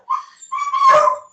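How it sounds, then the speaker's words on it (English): Dogs barking and yipping in the background of an online public meeting, two short high-pitched yelps, the second longer and louder, heard alone without talk. "Sorry for the dogs in the background."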